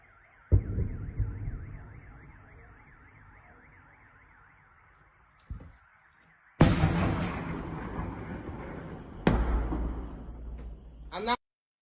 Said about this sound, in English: here's the video of those explosions inside of Melitopol city